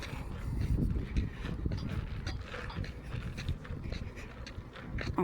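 A dog pants steadily outdoors beside a street in Camp Verde, near the Verde Brewing Company. The rapid breathing sits close and fairly loud, mixed with broad outdoor rumble and movement noise.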